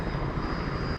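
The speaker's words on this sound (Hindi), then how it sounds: "आ गई हमारा हेलीकॉप्टर।" An arriving helicopter gives a loud, broad rotor and engine roar for about a second, close and continuous before cutting off abruptly at the end.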